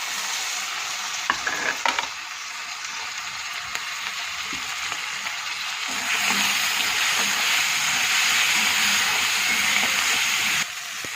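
Diced tomato tipped into a frying pan of onion, green chilli and ginger-garlic paste for a sprouted mung bean curry, hissing in a steady sizzle that swells louder partway through, with a few scraping clicks early on and no talking.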